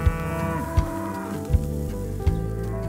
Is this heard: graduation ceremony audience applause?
no